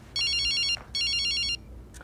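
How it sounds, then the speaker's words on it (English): A phone rings in the horror video game Illusion of Bias, with two bursts of a bright electronic ringtone separated by a short gap. The rings are loud and sound alone over a low room hum, and no one speaks. "One half of our couple gets a phone call waking her up."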